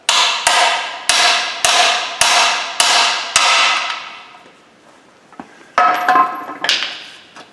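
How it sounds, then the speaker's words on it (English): A metal drift hammered to knock a worn bush out of a car's lower wishbone: six sharp, ringing hammer blows in steady rhythm, then a pause and a few more scattered, uneven strikes, loud and close. "And then just knock the bush out."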